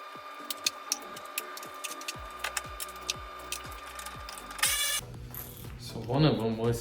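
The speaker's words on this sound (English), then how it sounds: "I have to go from the bottom and see where else I could unscrew other bolts from." A ratchet works loose bolts during a 2014 Volkswagen Passat 1.8 liter turbo engine teardown, close rapid clicking in regular bursts, then a brief metallic rattle and a murmuring voice at the end.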